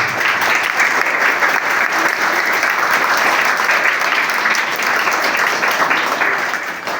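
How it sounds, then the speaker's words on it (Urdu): An audience at an elementary school speech competition gives sustained, loud applause for the school management, dense clapping that holds evenly throughout. "ان کے لیے تالیاں ہو جائیں تو مہربانی ہوگی"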